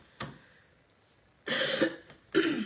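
Several coughs in a room: a short sharp one near the start, then a longer loud coughing burst and another cough close after, with no talking.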